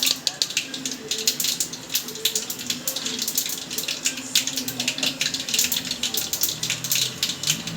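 Water pours into a bowl of spice mixture made of chili powder, turmeric, ground coriander and garam masala: a continuous close splashing trickle with rapid uneven patters throughout.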